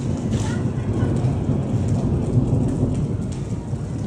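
Dense, steady rain pours down in Hyderabad with a low rumbling roar beneath it, like thunder, continuous throughout with no voices.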